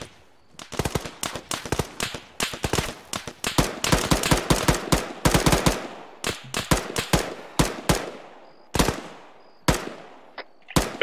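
Gunfire in the military video game Arma 3: close, loud rifle shots in rapid bursts, dense at first and then thinning into spaced single cracks, with no voices.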